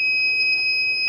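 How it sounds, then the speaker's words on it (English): The motherboard buzzer of a failed Ender 3 3D printer sounding a continuous loud, steady high-pitched electronic tone, near and unbroken, with no talk. "the buzzer's going off"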